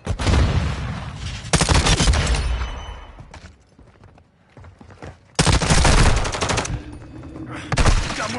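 Bursts of automatic gunfire from a Call of Duty: Modern Warfare 2 multiplayer match, loud sustained volleys separated by a quieter lull, with a final short burst near the end.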